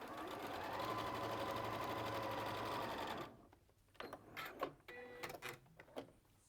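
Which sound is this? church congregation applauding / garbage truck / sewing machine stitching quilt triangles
sewing machine stitching quilt triangles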